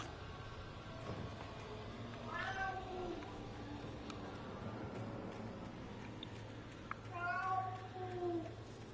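A pet cat meowing to be fed indoors: two drawn-out meows a few seconds apart, fairly faint, over a low steady hum and quiet background sounds.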